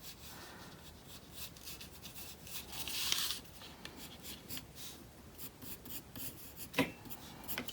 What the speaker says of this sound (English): So you're kind of sketching out three hearts to make a shamrock.